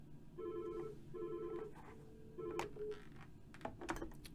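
Desk phone keypad beeps while logging in, a series of clear tonal presses in an uneven rhythm followed by fainter clicks and taps, close and moderately loud with no talking.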